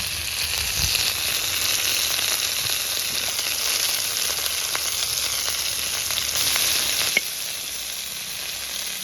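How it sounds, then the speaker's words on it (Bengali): Potatoes and pointed gourd fry in hot oil in a pan, a dense, continuous close sizzle with occasional small pops and crackles, steady and loud throughout, no talking. "এবার আলুগুলোও পটলের মধ্যে দিয়ে ভেজে নেব"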